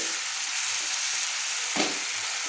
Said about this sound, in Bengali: আমি টমেটোটাকে ভালো করে তেলের মধ্যে কষিয়ে নিচ্ছি